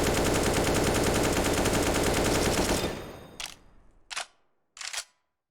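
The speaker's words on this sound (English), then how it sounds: "AK-47 full spray smooth." Rapid full-auto AK-47 gunfire from a video game, a loud continuous burst lasting nearly three seconds that stops abruptly, followed by three short separate bursts.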